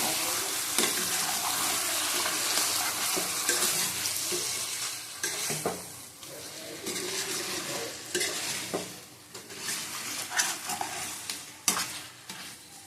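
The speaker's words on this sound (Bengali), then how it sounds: "ভালো করে কষিয়ে নেব" Chicken curry with potatoes stir-fried in a pan, with a steady sizzle and repeated scraping and stirring strokes that run throughout and come close and fairly loud.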